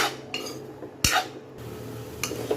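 A spoon mixes boiled green peanut sundal in a pot, giving a few separate metallic scrapes and clinks, one sharper knock near the middle, with quiet gaps between them and no talking.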